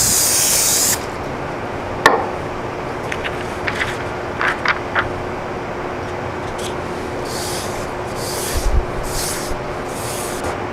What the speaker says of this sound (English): adhere it to your template blank using spray adhesive.